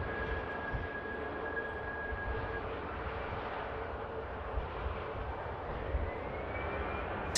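A KLM airliner in KLM livery taxis past at Manchester Airport, giving a steady, sustained engine roar and whine at moderate distance throughout.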